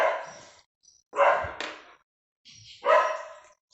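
Dogs bark in three separate bursts spread over a few seconds, fairly close and moderately loud, each cry full and short with quiet gaps between.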